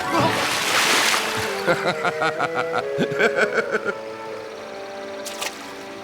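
Someone splashes through water while crossing it in a cartoon Bible story. A loud rush of water comes first, then rhythmic sloshing and splatter in a quick series, with voices and a musical score underneath.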